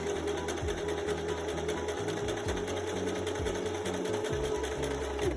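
Sewing machine stitching a fabric face mask, a fast steady mechanical whir with a rapid repeating needle thump, continuous and close for several seconds with no talking.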